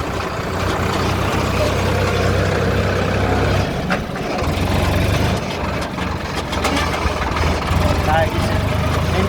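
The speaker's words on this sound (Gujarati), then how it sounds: "ચાલુ થઈ ગયો ટ્રેક્ટર." A tractor engine running in steady, loud, low idling, with a continuous diesel rumble and occasional clanks, while people talk nearby.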